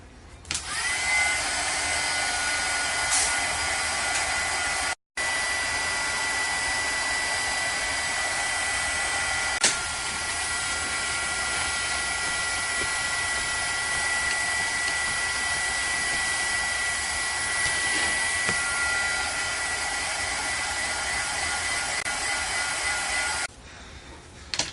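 Heat tool blows a steady, close whooshing hiss while drying a homemade watercolor glimmer mist, with one brief cutout and running nearly unbroken until it stops near the end.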